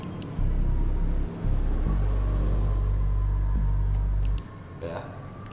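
A bass instrument pattern plays from music software, a loud steady low-pitched tone with a few repeated notes and a short break, ending abruptly before a brief quieter sound.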